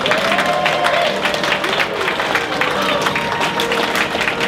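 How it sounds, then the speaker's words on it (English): Applause and crowd noise for a wedding bridal party entrance, steady clapping and murmuring voices filling the room throughout, with people talking underneath. "You can give a round of applause with each one, however you'd like."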